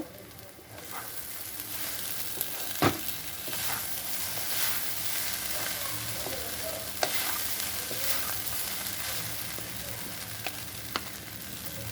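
Chira pulao with chopped coriander leaves stirred in a pan, a steady soft sizzle under scraping spatula strokes and occasional sharp clicks of utensil on metal, close and continuous, with no voices.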